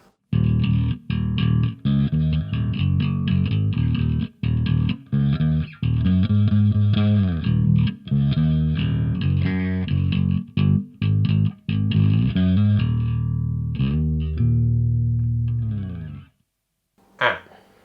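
A bass guitar with a clean, round tone plays a rhythmic riff of plucked notes up close, then stops and falls silent.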